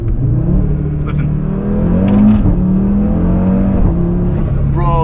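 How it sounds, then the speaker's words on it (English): A 2019 Audi RS3 engine revs up and settles back, loud and close, with a few brief blow-off and crackle bursts and a person talking over it. "it gives the same like blow off valve noises as my 1M and stuff"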